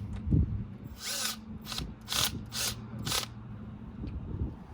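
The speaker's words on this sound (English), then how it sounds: "So now we're starting the drill." A power drill fitted with a polishing pad whirs in several short bursts during headlight restoration, each a few seconds apart, with a low steady hum running underneath.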